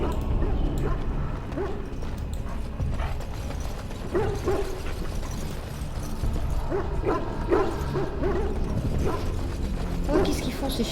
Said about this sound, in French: qu'est-ce qu'ils font ces chiens enfermés là?